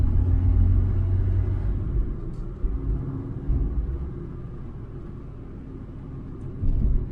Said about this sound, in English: There goes the MGB.